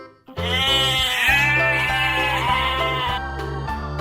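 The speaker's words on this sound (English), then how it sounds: "Sheep." A sheep bleats in one long, strained, quavering cry, loud and near and heard alone, which wavers in pitch before tapering off.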